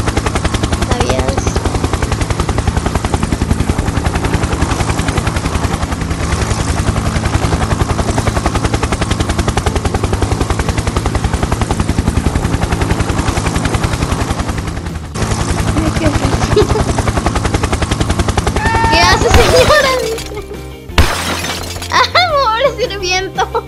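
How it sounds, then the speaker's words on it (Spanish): A helicopter in the Roblox game Brookhaven produces a loud, continuous rotor drone with dense rapid chopping, mixed with game sounds and voices before it fades into other effects at the end. "El helicóptero hace mucho ruido. ¿Sabías?"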